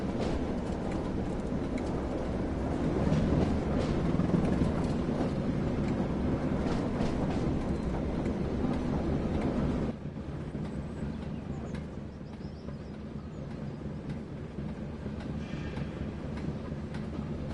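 A heavy locomotive rolls along the rails over Shap on the West Coast Main Line, a steady low rumble of wheels and engine that drops a little after about ten seconds and carries on quieter, with no talk.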